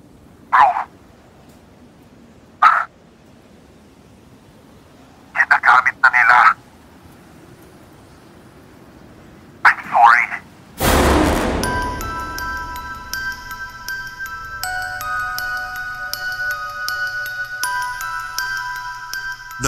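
A telephone rings in short tonal bursts, four times with growing pauses, in a Tagalog survival horror story. A sudden loud crash follows, then a sustained eerie musical drone.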